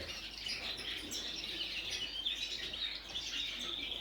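Several pet colour-fed canaries chirp and tweet in a continuous, fairly faint chorus of busy, overlapping high calls with no voices.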